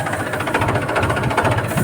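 A tractor engine runs steadily as the tractor drives on autopilot, a loud, continuous throbbing rumble with a regular pulsing beat, heard close up without speech.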